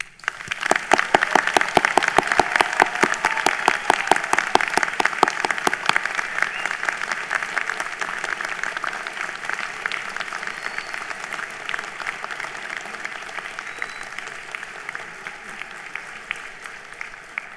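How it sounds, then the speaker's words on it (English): A convocation hall audience breaks into sustained applause for graduates, a dense, loud wash of many hands clapping that gradually softens. "I ask you, family, friends, faculty, and staff of the university to join me in applauding each of you"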